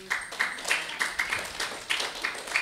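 A seminar audience claps in scattered, uneven bursts, moderately close, forming a short ragged round of applause with some faint voices beneath.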